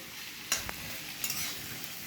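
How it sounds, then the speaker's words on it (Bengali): Chicken pieces frying on a medium to high flame for chicken curry, a soft steady sizzle with a couple of sharp stirring scrapes, fairly quiet, no talking. "চিকেনটাকে ভাজতে হবে মিডিয়াম টু হাই ফ্লেমে"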